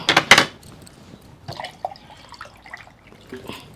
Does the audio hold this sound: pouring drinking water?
yes